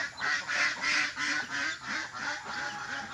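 Native chickens and Black Australorp chickens squawk and cackle in a steady, repeated rhythm, loud and close, about six hoarse calls in a row with no talking.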